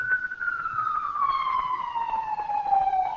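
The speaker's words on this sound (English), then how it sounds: "we hear nothing but police sirens" A single police siren wail slowly sweeping downward in pitch, loud and fairly near, with no talking.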